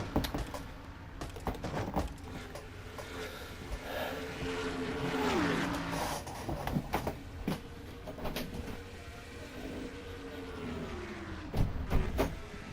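Stock cars, Dodge Challengers, race in a racing video game, engines whining and shifting pitch as cars pass, with scattered sharp impacts and clatter.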